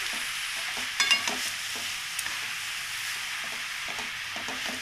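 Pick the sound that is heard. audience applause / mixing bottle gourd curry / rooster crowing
mixing bottle gourd curry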